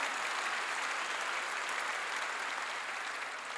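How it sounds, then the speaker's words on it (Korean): Steady congregational applause in a Korean church service, a dense even wash of many hands clapping at moderate, somewhat distant level, unbroken for the whole stretch. "박수로 하나님께 박수 치라고"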